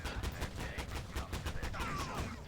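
A mounted weapon in Ostfront with the Indomitus 40K mod fires steady, rapid repeated shots at moderate volume, a continuous stream of thumping reports with no pauses.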